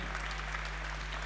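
An audience at a Slovak panel event for the Forbes 30 pod 30 2019 special claps steadily, a dense wash of applause that fills the whole moment without a break.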